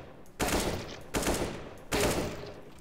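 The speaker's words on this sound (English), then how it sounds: "You shoot the first guy, hold the button and shoot the second guy with the second bullet" Three evenly spaced gunshots ring out in an aim_botz deathmatch practice map, each a sharp burst with a short decaying tail, fairly quiet and alone.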